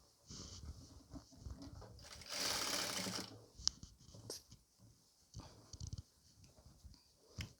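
A sewing machine runs in a short burst while stitching a nighty sleeve, a loud whirring run of about a second with quieter clicks and handling noises before and after.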